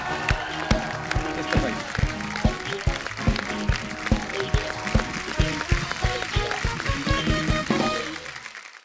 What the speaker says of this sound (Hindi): जोरदार तालियां नवाज भाई के लिए